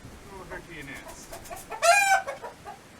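A chicken in a backyard coop gives soft clucks and then a louder, rising squawking burst near the middle, heard close with no talking.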